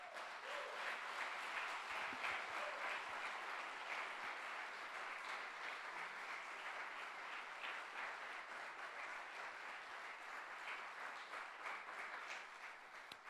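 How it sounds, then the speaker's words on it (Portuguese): A church congregation applauds in a long, steady wash of clapping that sounds distant and fairly faint throughout. "Agora pode aplaudir a Jesus."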